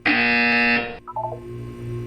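A harsh electronic buzzer in the video game Portal 2 blares steadily for about a second, then cuts off into a brief descending chime and low humming tones, alone without speech.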